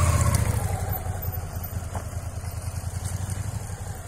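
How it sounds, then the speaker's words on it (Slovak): A motorcycle idles close by as the rider works the clutch gently during a riding lesson, a low, steady pulsing throb that dips slightly and then evens out. "Počúvaj motor"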